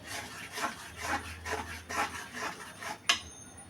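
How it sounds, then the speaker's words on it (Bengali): Onion, ginger, garlic and cumin pastes with turmeric, chili and salt are sautéed in a pan, a spatula scraping in a steady back-and-forth rhythm, ending with a sharper knock. "পেঁয়াজ পেস্ট আদা পেস্ট রসুন পেস্ট হলুদ মরিচ লবণ জিরা পেস্ট সব কিছু কষিয়ে নিচ্ছি"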